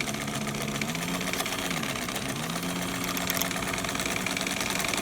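A vintage Kenmore rotary straight-stitch sewing machine made by White runs steadily through heavy canvas with a size 16 needle, giving a continuous close mechanical hum and rapid rhythmic stitching throb.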